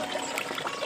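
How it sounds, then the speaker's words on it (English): Water fetched and poured at a village farm house, a steady close trickling and splashing stream that runs throughout, ending in a louder gush. "This is how we fetch water."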